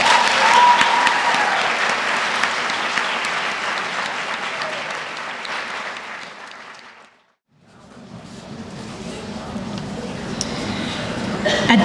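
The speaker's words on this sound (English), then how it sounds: "we will ask that all of your community partners and recipients be recognized with a round of applause." Audience applause at a Grade 12 academic awards ceremony, a broad sustained wash of clapping that fades briefly to near silence, then a second round of applause follows.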